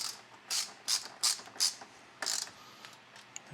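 Ratchet wrench tightening a bolt while a 9500 lb winch is mounted on a 2020 Jeep Wrangler JL, heard as six short bursts of rapid clicking pawl strokes, fairly quiet and close, with no talk.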